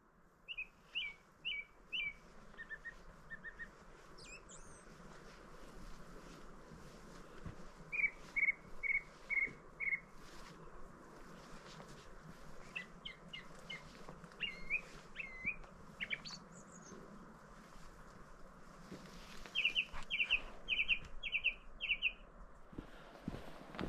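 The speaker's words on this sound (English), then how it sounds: "Bird song on the coast path as the sun set." A robin sings on a coast path at sunset, short bright phrases repeated at intervals, clear and moderately close, with quiet gaps and a faint steady background hum between the songs.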